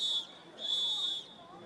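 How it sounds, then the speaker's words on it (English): A game advisor at an ultimate frisbee match blows two sharp whistle blasts, one short and one longer, clear over faint background noise. "That is the third whistle from game advisor"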